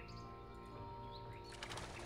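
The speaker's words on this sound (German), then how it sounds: "Schon wieder ein Vogel vertrieben." Bird taking flight in the hidden-object video game Enigmatis 2, a faint short flutter of wings with a soft coo-like call over quiet ambient game music.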